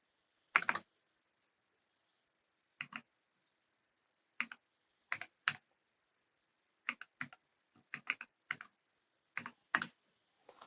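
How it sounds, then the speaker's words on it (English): Keys on a computer keyboard clack in short, irregular bursts as a password is typed, near and clear against near silence, a dozen or so separate taps spread across the stretch. "So we'll type the password in."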